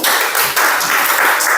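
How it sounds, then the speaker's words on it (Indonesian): Classroom students clapping together after a correct answer in a school lesson, a dense burst of applause that runs steadily for under two seconds with no talk over it. "Tepuk tangan dulu."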